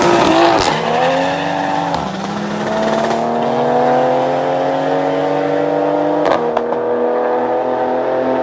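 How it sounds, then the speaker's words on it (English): A Nissan Maxima engine holds high revs during a race, droning loud and steady against the rev limiter, with brief dips and a sharp break in pitch partway through. "I'll put a short clip of that race up real quick so you can hear me dance on rev limiter"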